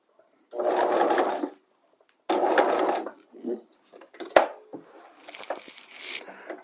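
A sewing machine stitching a fabric patch pocket, two sustained bursts of rapid whirring stitches separated by a pause, followed by short intermittent stitches and handling clicks, close and alone.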